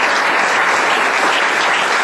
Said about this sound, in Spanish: Ofrenda de aplausos al Señor, hermanos